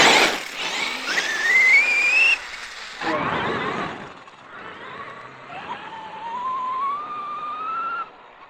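A high-pitched brushless motor whine from a Traxxas Summit RC truck with a 2200kv Velineon motor on 6S rises and falls repeatedly as it speeds up, with gritty rolling noise underneath.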